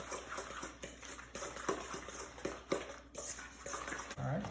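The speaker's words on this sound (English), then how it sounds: "And then stir your cheese and everything in." A utensil stirs cheese into spanakopita filling in a bowl, making faint, repeated scraping and soft clinks at a steady rhythm, with a low voice briefly near the end.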